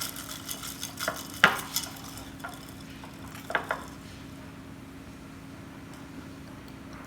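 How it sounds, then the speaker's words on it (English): A spoon stirs a mango dragonfruit drink, giving a few light clinks and scrapes in the first few seconds, then fading to quiet with a steady low hum behind. "I'm stirring up a little bit more to make sure it just wasn't stirred up enough."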